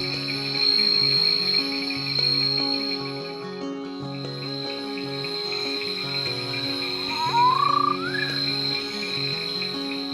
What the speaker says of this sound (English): The recently described Kumbara night frog.